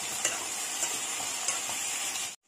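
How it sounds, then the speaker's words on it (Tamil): Eggplant, potato and radish sautéing with tomatoes for an Indian poricha kuzhambu curry, a steady close sizzle with a few sharp stirring clinks, ending abruptly in silence. "சேர்த்துட்டு இந்த தக்காளியோடவே சேர்த்து வதக்கிக்கலாம்."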